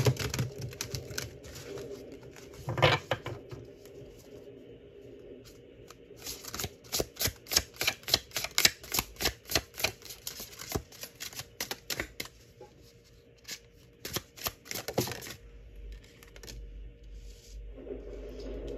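Rapid riffling and clicking of tarot cards being shuffled, in bursts of quick crisp snaps with pauses between, close and fairly quiet.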